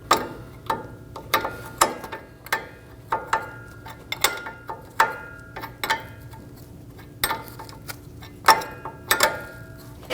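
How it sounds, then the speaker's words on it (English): A hand ratchet snugs down the ball joint nut on a Chevrolet Express 2500 van's upper control arm, delivering bursts of sharp clicking pawl ticks in irregular runs, close and moderately quiet, with no speech. "Snug down the ball joint nut."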